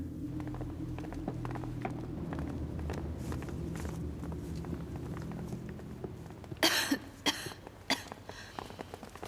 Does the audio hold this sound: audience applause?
no